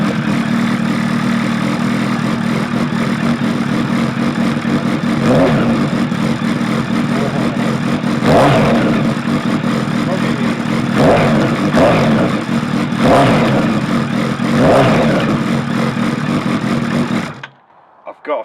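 A Suzuki Bandit motorcycle engine with its exhaust baffle removed runs loud and close, idling roughly with several throttle blips and revs before cutting off abruptly near the end.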